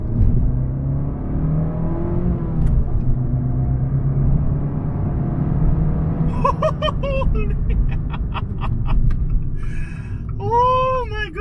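A turbocharged Abarth 595 hot hatch with manual transmission rumbles steadily, then revs rise and fall in several rising whines as it pulls away and accelerates.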